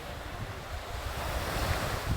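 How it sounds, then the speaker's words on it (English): Surf washes steadily onto a beach on the Greek island of Milos, a continuous close roar of breaking waves with wind buffeting the microphone throughout. "I love this beach. It's the best beach in Milos."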